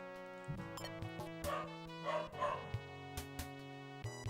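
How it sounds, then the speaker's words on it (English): A dog yips and barks repeatedly, excited and fairly close, while a steady droning hum runs underneath and no one speaks. "dog's gone mentally about something"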